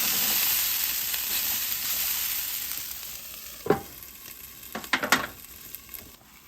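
Vegetables for a vegan green chile stew frying in a pan over medium heat, a steady soft sizzle broken by a few sharp clacks and scrapes as they are stirred near the end.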